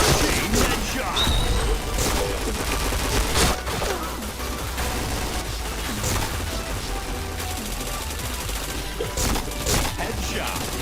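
Rapid, heavy gunfire from the shooter game Point Blank fills the whole stretch with overlapping loud shots and impacts at close range, while a player's voice chatters beneath the noise.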